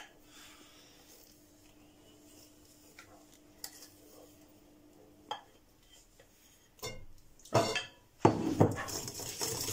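Melted chocolate and cold eggs are stirred in a bowl, with faint ticking clinks of a utensil at first, then louder scraping and mixing bursts near the end, no speech.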